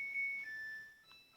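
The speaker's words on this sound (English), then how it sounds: "now that washing machine is giving an alarm that washing process fully completed" A Samsung 6.2 kg fully automatic diamond drum washing machine signals the end of its cycle with a short electronic melody of a few faint, clear tones, the last one higher, in a quiet room.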